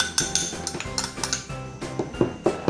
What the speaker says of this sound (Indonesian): Ini maizena sama tepung terigunya kita campur ya jadi satu.